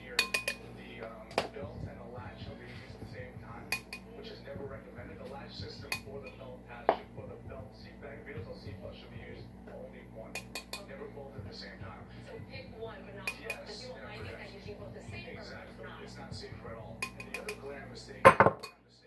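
Metal teaspoon scooping and leveling flour in a bowl, with scattered light scrapes, taps and clinks against dishware throughout and a louder clatter near the end, under soft intermittent talking.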